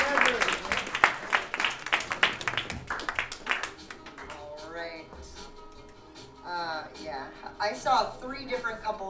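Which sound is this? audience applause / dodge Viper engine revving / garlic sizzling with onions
audience applause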